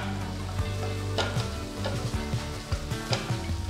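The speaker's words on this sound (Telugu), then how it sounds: "ఉల్లిపాయలు వేసిన తర్వాత నెక్స్ట్ దీంట్లో 4 పచ్చిమిరపకాయలు వేస్తున్నాను." Green chillies, slit in the middle, frying with onions in a pan for pepper rice: a loud, dense sizzle right up close, broken by frequent spatula scrapes and taps, with no talking.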